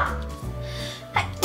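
A sharp, forceful sneeze bursts out near the end, preceded by a brief breathy intake and a voiced sound.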